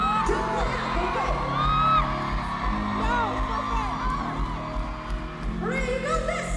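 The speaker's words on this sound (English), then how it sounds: "I'm gonna need you cheering her on the entire time" Crowd at a concert in Melbourne cheers and whoops for a fan brought on stage during a song, a steady roar of yells and shouts with a voice talking over it.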